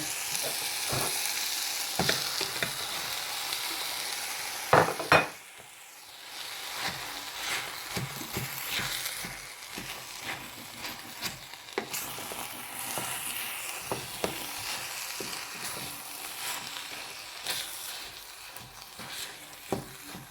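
Corned beef frying and being stirred in a pan as meat pie filling with veggies, a steady close sizzle with scraping stir clicks throughout and a sharper clatter near the five-second mark.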